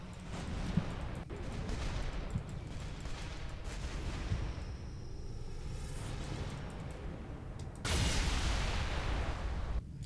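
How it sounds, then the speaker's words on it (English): Rapid bursts of heavy cannon fire from the UNSC Templar spaceship in the video game Project Stardust, booming continuously with dense blasts and a louder, harsher volley near the end. "See if we can see if we can check out the cannon damage on this thing"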